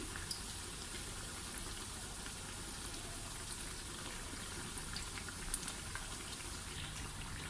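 Besan phulki fritters fry in hot oil over medium heat, giving a steady, quiet sizzle with soft popping bubbles throughout.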